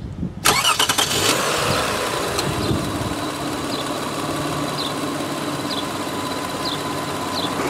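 A car engine cranks briefly and catches during a battery cranking test with an ANCEL BA201 battery tester, then settles into a loud, steady idle with a faint repeating chirp.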